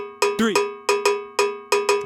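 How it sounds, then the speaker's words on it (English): Metronome cowbell clicks out a bembe pattern in three, with crisp metallic strikes falling in irregular pairs and singles, bright and alone. "The next preset after that is the same bembe pattern but with a count in 3."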